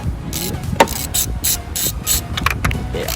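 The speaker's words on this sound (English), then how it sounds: "Finally got the 3/8 ratchet, so now we should be able to pull these off." Rapid clicking bursts from a 3/8 ratchet loosening bolts on the intake manifold of a modified Ford Focus ST, with close, sharp pawl ticks in quick repeated strokes.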